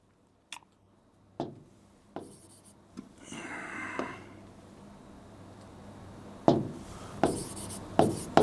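Chalk or marker strokes on a board in a current affairs lesson, sparse scratchy scribbles coming in short separated bursts, with a longer rubbing stretch in the middle and a few sharper taps near the end, fairly close and alone.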